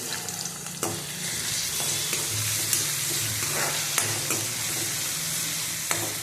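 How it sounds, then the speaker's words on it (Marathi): Onion and tomato fry in a pan with a continuous sizzling hiss, broken by a few sharp stirring knocks and scrapes. "कांदा परतत असताना आपण त्याच्यामध्ये टोमॅटो टाकणार आहोत।"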